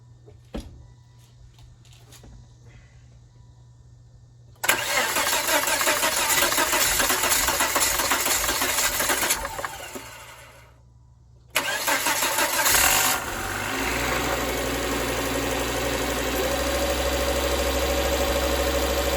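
A Volvo S80 engine cranks and fires up after a PCV oil trap replacement, roaring loudly as it catches, dipping briefly, then catching again and settling into a steady idle, close by.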